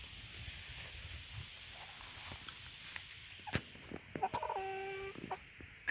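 Chickens in a chicken run give soft, scattered clucks over faint background noise, with a brief rising call and a few sharp knocks near the end.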